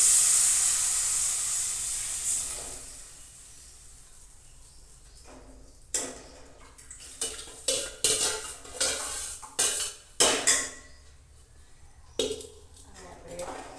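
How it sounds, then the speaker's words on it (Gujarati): A spoon stirs yogurt into a spiced kadhi batter in a pot, with soft scraping and a run of clinking knocks against the vessel, a faint hiss at the start and quiet talk in between. "ચમચાની મદદથી સારી રીતે મિક્સ કરી લઈશું"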